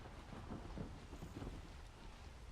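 Steady rain with a low rumble of thunder in the survival game Ark, a dense continuous wash of noise that stays faint and even throughout, with no voices.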